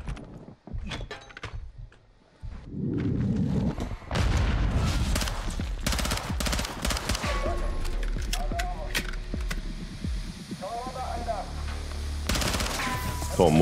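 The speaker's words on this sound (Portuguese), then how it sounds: "Meteram uma granada." Gunfire and a grenade explosion in the Call of Duty Modern Warfare 2 campaign: scattered single shots, then a heavy blast followed by sustained bursts of automatic fire, near and loud, with occasional clinks and radio chatter.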